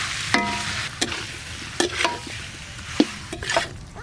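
Fried potatoes, pointed gourd and prawns are stirred into cooked spices in a pan, producing a soft background sizzle broken by several sharp scrapes and clanks of a spatula against the pan.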